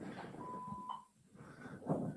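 A single faint, steady electronic beep sounds for about half a second on a livestream audio feed, followed by a brief dropout to near silence before quiet background noise returns.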